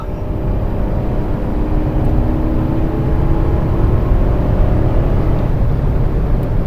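Inside a remapped Stage 1 Skoda Kylaq accelerating in 4th gear, a steady engine and road roar slowly builds in loudness, with no talking.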